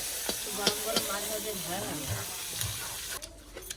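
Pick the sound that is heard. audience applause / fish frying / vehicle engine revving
fish frying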